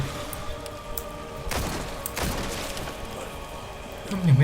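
Gunshots from the video game Resident Evil 4 Remake, a couple of sharp broadband cracks a second or so apart over steady game ambience, with a low thump near the end.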